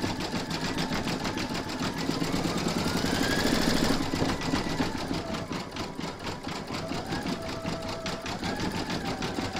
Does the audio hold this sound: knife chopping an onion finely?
no